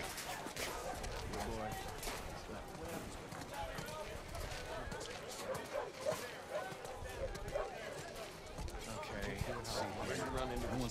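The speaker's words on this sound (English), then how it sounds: "Pretty dog." A dog in The Last of Us Part 2 barks and whimpers in short bursts amid game sounds, partly under voices talking.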